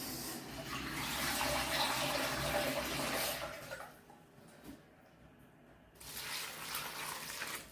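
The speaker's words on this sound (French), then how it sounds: "On met de l'eau." Water runs steadily from a tap over fresh aromatic herbs and leaves being washed in a sink, a loud broadband gush that dips briefly midway, then resumes strongly.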